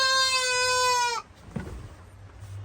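A goat kept under a wooden cot gives a loud, quavering bleat lasting about a second, followed by faint rustling and low background noise.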